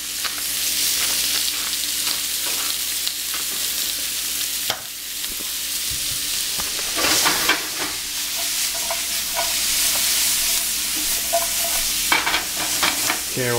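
Chicken seasoned with salt and pepper sautéing in a pan, a constant close sizzle with occasional scraping stirs and brief louder bursts of spitting, with no talk.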